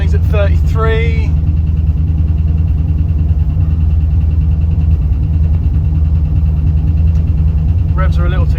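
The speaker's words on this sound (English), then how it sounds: "Revs are a little too high for idle." A carbureted LS V8 swapped into a second-generation Firebird idles steadily at slightly high revs, a deep continuous rumble close by, with a voice talking briefly over it at the start and end.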